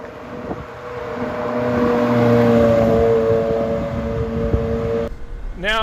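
A 2001 Ferrari 360 Spider engine hums steadily from inside the cabin with the roof down, a smooth tone rising and falling gently, before a sharp rising whine near the end.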